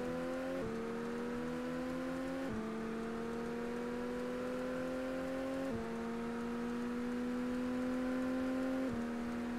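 Looped engine drone from a car in the racing game ToCA Race Driver 2, a steady tone that steps slightly in pitch every few seconds with a faint ticking underneath, continuous and alone.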